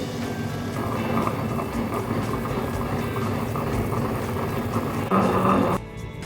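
A wet grinder churns vada batter in a steady, continuous whirring rumble with wet sloshing, close and unbroken throughout, shifting slightly in tone near the end.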